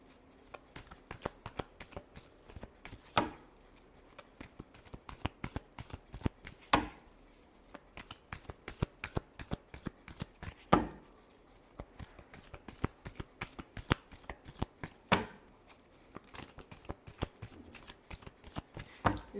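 Tarot cards are shuffled by hand over and over, a rapid run of crisp riffling flicks with a louder slap every few seconds, close and clear.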